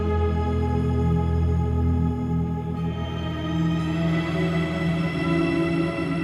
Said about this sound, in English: then you can hear some shimmer in the background, and it's using the dream verb